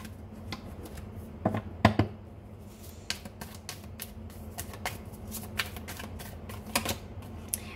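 Tarot cards shuffled by hand during a reading, giving faint, irregular riffling and flicking clicks in short bursts, a few sharper snaps standing out, with no talk over them.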